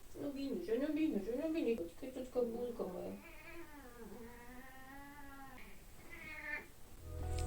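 A kitten meows repeatedly up close, with wavering, drawn-out cries that rise and fall, loud and insistent.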